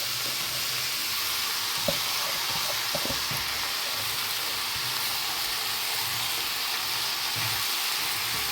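Bethua greens fry with a fish head in a pan, a steady close sizzle and hiss with a few soft clinks and stirring bumps and no talk.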